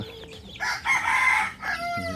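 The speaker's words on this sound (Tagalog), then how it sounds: "manok nila guys oh" Chickens cluck around a rooster that lets out a loud, close crow lasting about a second, with more fowl calls trailing after it.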